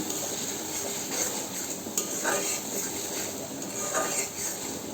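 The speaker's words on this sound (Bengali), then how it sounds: "কাঁচামরিচ দিয়ে দিলাম, কাঁঠালের বিচি দিয়ে দিলাম।" Green chillies and jackfruit seeds go into a pot of spiced small fish and lata curry, followed by steady stirring with soft scraping and clinking of utensils against the pot and a faint sizzle underneath, with no talking.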